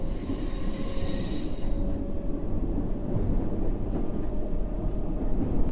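Subway train pulling away in the game World of Subways 3 on the Circle Line near Baker Street, a steady low rumble of wheels on track with a high squealing whine that fades after the first couple of seconds.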